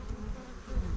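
A honeybee drone buzzes at the entrance of a young hive, a low droning hum that stays close and steady for about a second with no talking.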